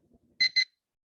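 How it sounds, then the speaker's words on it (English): An electronic device gives two short, bright beeps in quick succession, sharp and clear, with a faint murmur just before them. "beeping. It's like we're defusing a bomb or something."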